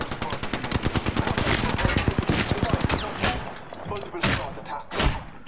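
Rapid automatic gunfire from Apex Legends fills the first three seconds in dense bursts, followed by a few heavier separate shots, with game effects and voices mixed in.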